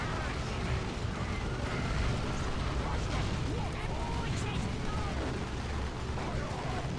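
Ork battle wagon firing in Dawn of War II: Retribution, a dense, continuous roar of battle with booming artillery-like blasts and scattered gunfire across the whole stretch, with no pauses.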